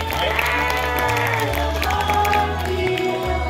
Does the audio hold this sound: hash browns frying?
no